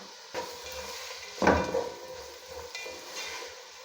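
Carrots frying with garlic and salt in a pan while being stirred, a steady close sizzle with scraping stir noises and one louder burst of spatula movement partway through.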